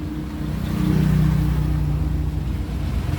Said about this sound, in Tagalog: Ito yung makina ng Hino 700